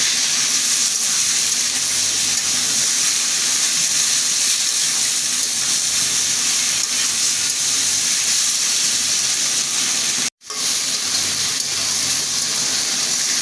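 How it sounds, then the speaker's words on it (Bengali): Potatoes and onion fry in a pan, giving a steady, loud sizzling hiss that fills the whole stretch and cuts out abruptly for a split second near the end. "সে পেঁয়াজটাও দিলাম আলুটার সাথে ভাজা ভাজা হয়ে যাবে"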